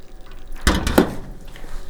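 Water poured into a baking dish to make a water bath for ramekins: a short splashing pour of about a second, close and fairly loud, then quiet.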